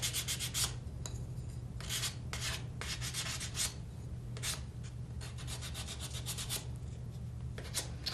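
Sandpaper rubbing tint off a heart-shaped craft piece, a continuous close scratchy scrubbing with rapid back-and-forth strokes and a steady low hum beneath, with no talking.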